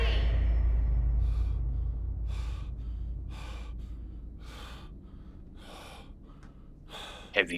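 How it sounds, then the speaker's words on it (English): Heavy, ragged breathing from the player character in the horror game Amnesia: A Machine For Pigs comes in a slow series of about seven loud gasping breaths over a low droning ambience, with no talk. "Heavy breathing."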